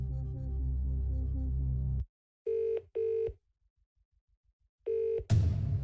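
Telephone dialing and ringing during a Phone a Friend lifeline in a Who Wants to Be a Millionaire game: a low hum cuts off, then three clipped electronic ring tones sound with pauses between them, followed by a noisy burst.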